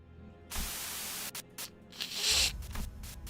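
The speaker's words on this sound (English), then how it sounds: "a sudden buzz of white noise breaks through the truck silence" Radio static in the video game Limbus Company: a sudden loud burst of white-noise hiss that holds steady, then breaks into choppy bursts and crackles before fading to a lower rumble.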